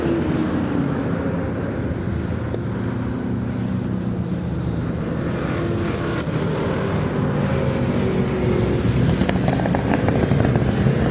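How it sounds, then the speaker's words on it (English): A Ford Mustang race car at Thruxton circuit roars loudly and continuously, its exhaust note steady with faint crackles as it heads into the chicane, mixed with other racing engines. "Listen to it crackle as it goes into the chicane."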